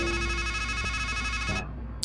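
Phone ringing in the video game Strangeland, a loud electronic ringtone with steady repeating tones that cuts off near the end.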